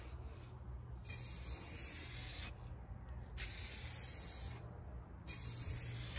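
An aerosol spray paint can hisses in three sustained bursts of a couple of seconds each, close and fairly soft, with short gaps between them and no voices.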